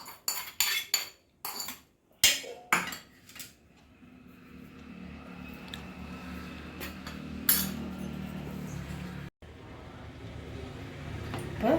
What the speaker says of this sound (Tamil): அதையும் இது கூட போட்டு நல்லா ஒன்று போல் கிளறி